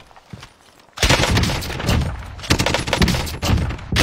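Rapid video game gunfire starts abruptly after a quiet second and continues as dense, loud bursts of shots with short gaps, dominating the scene with no talk over it.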